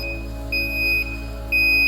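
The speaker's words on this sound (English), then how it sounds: "If it goes over 4, the alarm will go off." A pressure alarm on a machinery unit sounds two high, sustained beeps about a second apart over a constant low mechanical hum.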